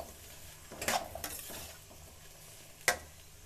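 Onion and green chillies being stirred in about two tablespoons of hot oil for keema puri, with scraping spatula strokes against the pan, a few sharper clinks, and a low sizzle underneath, fairly quiet overall.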